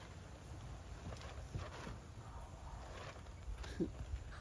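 Steady low rumble of wind buffeting a microphone outdoors, fairly quiet and continuous, with a few faint gusts and light rustles.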